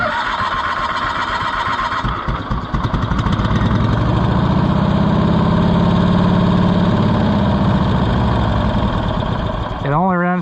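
Cushman Truckster small engine idling with the choke pushed all the way in, a loud, close, steady putter with a rough rhythmic chug that settles in after a brief uneven start and stops abruptly at the end.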